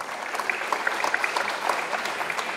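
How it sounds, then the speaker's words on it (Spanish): Steady applause from a conference audience at an international circular economy forum, a dense even patter of many hands heard from a distance with no talking over it. "Lo recibimos con fuertes aplausos también"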